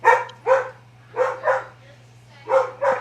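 A dog barks in pairs of sharp yaps, three bursts spaced about a second apart, fairly close, over a steady low hum indoors during a podcast.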